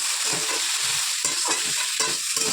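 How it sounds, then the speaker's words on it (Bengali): Bitter gourd and potato pieces frying in a pan, a loud close sizzle with rhythmic stirring scrapes and clacks repeating through the whole moment, no talk. "এইটাই হচ্ছে উচ্ছে আলু ভাজা"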